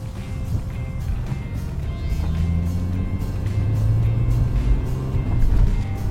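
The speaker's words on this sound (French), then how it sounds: "On a même cette sonorité assez haute, même si c'est un diesel qui est juste parfait." A Mercedes CLS 350d diesel is driven on a road test. The engine hum rises and falls as it accelerates, with a fairly high-pitched note, and road and wind noise are heard from inside the car.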